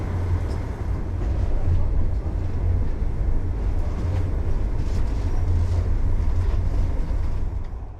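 A ČD InterCity train running at speed from Warsaw toward Katowice and Prague, heard from inside as a steady low rumble and rolling drone of wheels and carriage, continuous and fairly loud with no talk.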